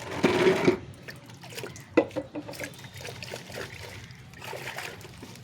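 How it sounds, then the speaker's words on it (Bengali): Water is poured over the trimmed roots of a peepal bonsai to rinse them. A short splashing pour comes first, followed by irregular drips and trickles close by, with brief handling sounds between them. "গাছটাকে একটু ধুয়ে নিতে হবে জলে"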